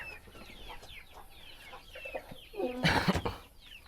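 Brahma hens cluck and chatter in their coop, a run of short rising calls building to a louder, nearer burst of squawking near the end before settling again.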